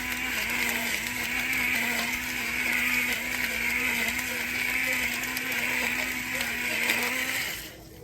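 A salt grinder works steadily over cabbage in a kitchen, a continuous close whirring, rasping buzz lasting several seconds before stopping abruptly.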